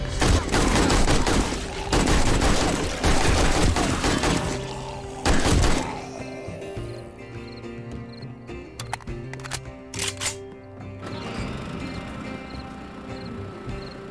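Loud, close bursts of AK rifle fire in the zombie survival game 7 Days To Die, rapid shots in a cluster, then a final burst and scattered quieter thuds and clatter.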